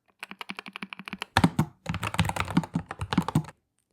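Typing on a Lofree Flow mechanical keyboard: a run of close, crisp clacky keystrokes, first evenly paced, then faster dense bursts, ending abruptly.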